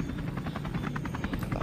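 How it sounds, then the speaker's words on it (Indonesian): A toy helicopter flying during play in sand, giving a quiet, steady rapid chopping whir of rotor pulses throughout, with no talking. "Helikopter terbang lagi untuk jalan-jalan."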